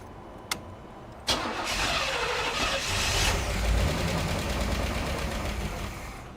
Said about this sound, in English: Well, it is indeed going to crank up that easy.